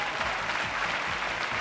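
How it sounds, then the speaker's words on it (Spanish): Studio audience applause on a 1996 Spanish TV game show, a steady, dense wash of many hands clapping close and loud throughout, with no pauses. "Mira cómo te aplaudes."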